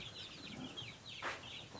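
Several chickens escaping from their pen cluck and squawk in short bursts at low volume, with one sharper, louder call near the end and no voices.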